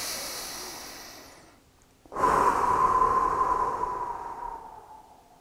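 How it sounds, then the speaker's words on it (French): A slow, deep breath: a long exhale trails off into near silence, then a strong, airy inhale swells and gradually fades, close to the microphone. "Respiration profonde."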